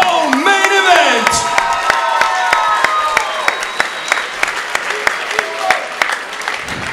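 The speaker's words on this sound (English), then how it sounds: "one more round of applause for a great co-main event!" At a welterweight combat-sports event, a crowd applauds and cheers, with whoops and shouts over the clapping. An announcer talks over the crowd at the start, and the noise settles into scattered claps and fading cheers.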